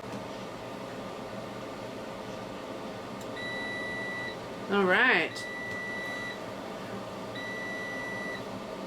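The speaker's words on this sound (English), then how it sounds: "it is done cooking, and so it went ahead and made a little noise to let you know that it's done and ready for action" A Gourmia GAF 486 4-quart air fryer gives a short series of high electronic beeps when it finishes cooking, over a steady fan hum, with a brief spoken word in the middle.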